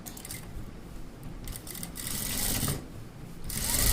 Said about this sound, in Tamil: நீங்கள் இப்படியே தைச்சிக்கோங்க